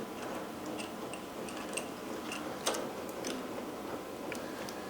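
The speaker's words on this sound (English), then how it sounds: "If you can hear a ticking sound in the background, I have a diesel heater out here running" Steady faint ticking from a running diesel heater repeats in the background under a broad low hum, a mechanical tick-tock with no voices.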